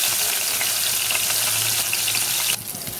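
Brinjal slices fry in hot oil in a pan, a loud, dense, continuous sizzle close up that drops suddenly in level near the end, with no talking.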